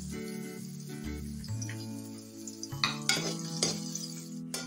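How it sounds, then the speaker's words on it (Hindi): A medium onion added to leftover oil with two extra tablespoons, frying with a steady sizzle, followed by clinking and scraping of a utensil stirring in the pan, close and without speech. "बाकी बचे हुए ऑयल में हम 2 टेबलस्पून ऑयल और डालेंगे। और एक मीडियम साइज का प्याज ऐड करेंगे इसके अंदर।"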